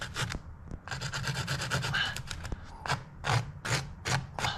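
Sandpaper scrubs against a log to mark a starting point, quick rhythmic rasping strokes in bursts, close and fairly quiet, with brief pauses between runs and no talking.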